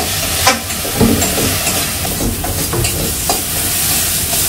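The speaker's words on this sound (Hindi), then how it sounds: "इसको तब तक भूनना है जब तक थोड़ा लगना शुरू हो जाएगा" Potatoes frying in spiced masala for Nepali aloo dum, a loud close sizzle with repeated scraping and stirring knocks of a spoon against the pan, no speech.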